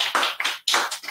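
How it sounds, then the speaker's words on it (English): A congregation at a Shabbat service claps hands together, a loud burst of overlapping claps in three quick surges over about a second. "Give God a hand clap"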